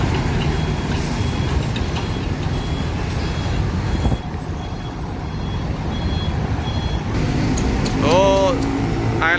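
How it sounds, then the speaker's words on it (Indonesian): A container truck manoeuvring at a bus station, its steady engine rumble loud and close, with intermittent reversing beeps, a brief air-brake hiss and bus horn tones near the end. "Wow, ini mobil kontainer ini."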